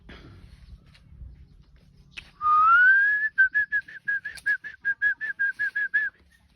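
A person whistles a rising note, then a quick run of short repeated pulses, clear and close with no talking.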